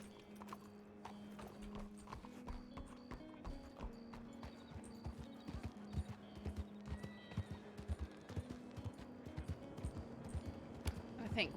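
Horse hooves in the RedM (Red Dead) game clip-clopping in a steady walking rhythm, with a neigh and some mechanical ticks, while a voice talks faintly over them.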